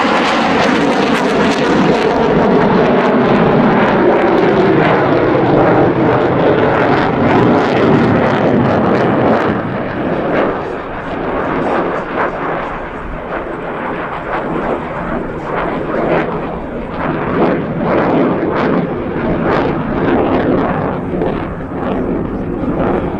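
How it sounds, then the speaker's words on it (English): A US Navy F-18 Hornet jet roars through an air show demonstration, a loud, broad thundering rumble that swells and slowly fades with a crackling, rippling texture, and a commentator talks over it. "Demonstrates the incredible pitch authority and vertical maneuverability of the F-18."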